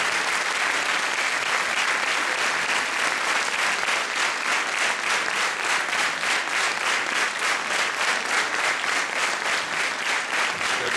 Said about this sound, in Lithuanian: Plojimai netyla.